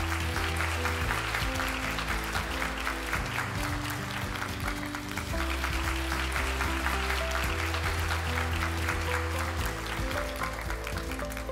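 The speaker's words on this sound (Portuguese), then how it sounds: "Nós aplaudimos." Applause at a World Health Day ceremony honouring health workers, a steady dense wash of clapping that lasts the whole stretch, with musical tones sustained underneath.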